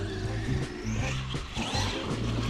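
A race car engine on a 4987 motor idles roughly and blips its throttle in short repeated rises, loud and close with a steady mechanical drone between the bursts.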